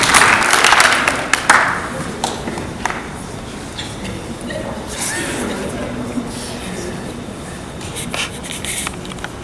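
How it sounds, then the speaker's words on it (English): Audience applause at a poetry reading in a school setting, a dense burst of clapping that fades after the first seconds into scattered claps, shuffling and light footsteps. "Let's give them a round of applause."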